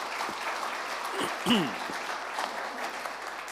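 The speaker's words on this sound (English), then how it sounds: "a round of applause for our 5 great panelists" A round of applause for five panelists closing a One Health discussion session, moderate steady clapping from a modest audience, with a brief voice or pitched sound rising mid-way.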